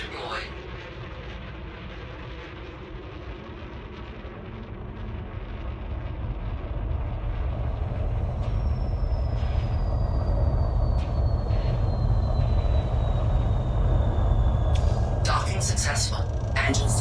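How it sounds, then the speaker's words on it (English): Spaceship in Elite Dangerous lowering onto a station pad and docking: a steady low engine rumble swells and holds, with a long falling whine and a few sharp mechanical clunks near the end, under speech. "We have docked at Wu's castings."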